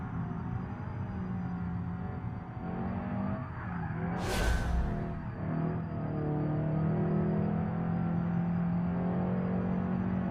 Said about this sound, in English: I hear stuff like squealing and stuff in the car